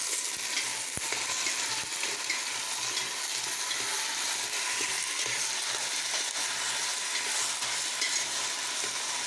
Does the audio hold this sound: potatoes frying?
yes